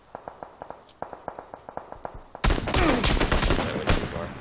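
Gunfire in the battle game PUBG: a quick run of single sharp shots in steady rhythm, then a dense, loud burst of automatic fire and chaotic bangs that swamps everything for the last two seconds.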